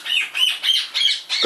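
Corellas and a king parrot call from the trees, a run of four or five harsh, screechy squawks in a loose rhythm, fairly close and loud, with no other sound between them.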